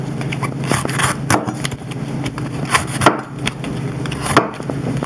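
A knife crunches and scrapes through the top of an artichoke in a series of uneven, crisp cuts against a steady background hum.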